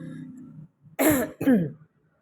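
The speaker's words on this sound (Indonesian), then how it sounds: "Maaf sambil batuk-batuk ini ya, musim hujan terus batuk-batuk" Two harsh, throaty coughs from a person with a rainy-season cough, in close succession, loud and near, following a stretch of quiet murmuring.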